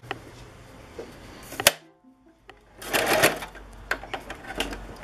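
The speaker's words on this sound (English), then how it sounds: "And then you take this side and you kind of just sew it shut." A sewing machine stitching a blanket cover shut runs in close, rattling bursts, stopping briefly and then starting up again with a busier whirring run.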